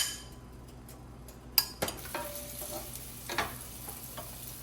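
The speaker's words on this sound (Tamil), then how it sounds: "வெங்காயம் வதங்கி கொண்டிருக்கு." Oil sizzles steadily in a pan while a utensil scrapes and clinks a few times as the onions are stirred.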